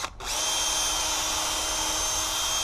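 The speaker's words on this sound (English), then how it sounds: "Pre-drill for our screws and a little for the head." A power drill pre-drilling screw holes in an exterior door threshold whines at a steady high speed after a brief start, running continuously and close by.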